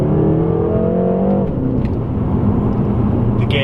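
A 2017 BMW M6 engine revs hard and loud, its pitch climbing and then dropping sharply around a quick gearbox shift midway, with a steady close-up drone continuing afterward.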